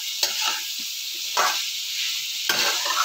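Vegetables fry in a pan for moong dal, giving a constant bright sizzle punctuated by three distinct scraping stirs, with no voices.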